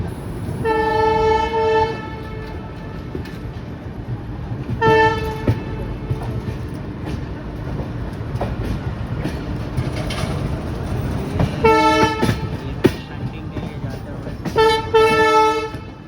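A passenger train at a railway station in India, with a steady rumble of station noise throughout and several repeated horn blasts ringing out in bursts, loud and fairly close.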